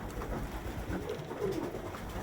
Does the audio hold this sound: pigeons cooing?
yes